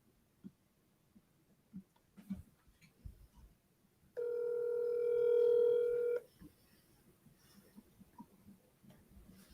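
A telephone dial tone sounds steadily for about two seconds before a cold call, with faint clicks and keypad dialing before it and quiet handling noise after.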